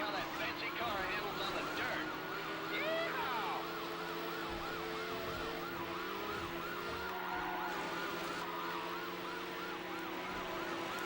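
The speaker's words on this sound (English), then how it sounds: "I heard a real life siren driving by my house." A real siren passing outside a house wails in a repeating rising-and-falling pattern, somewhat distant, over steady engine and game noise from Need for Speed: Hot Pursuit 2 on PS2.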